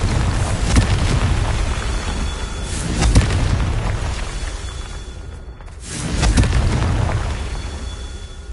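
Confringo blasting spell explosions in the game Hogwarts Legacy: heavy booming blasts with whooshing bursts, a sharp hit early, another near three seconds and a swelling rumble after a brief silence around five and a half seconds.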